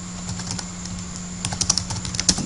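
Computer keyboard typing of text, with light, irregular key clicks that start sparse and grow into a quicker burst of taps near the end, close and clear in a quiet room.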